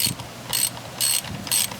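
A socket wrench ratchets on a spark plug in a Kia 2.0L GDI engine, making three evenly spaced bursts of crisp, close clicking.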